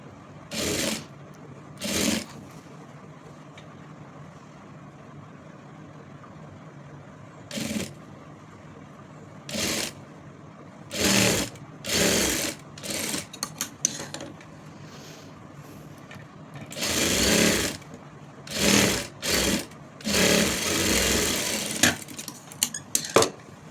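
Sewing machine stitching a simple child's frock of soft fabric, running in repeated loud bursts of a few seconds each, separated by quiet pauses, with no talking.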